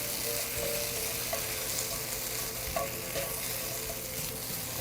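Swiss chard wilts with salt in a hot pan, giving a steady, quiet sizzle and crackle with occasional stirring clicks, with no talk.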